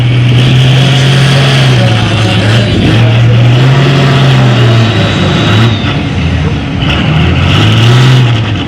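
A pulling tractor's engine at a tractor pull spools up with a deep, very loud droning roar that rises and falls in slow waves, a high turbo whine riding above it.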